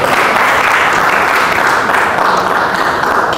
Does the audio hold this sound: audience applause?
yes